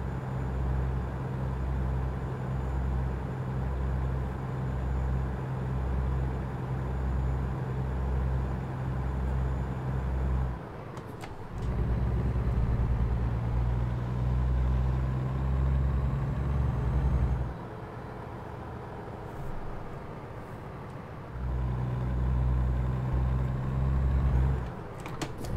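Diesel truck engine in American Truck Simulator, a low rhythmic rumble that idles, drops out, then revs and pulls away in several shifts through the gears, steady and close with no talking.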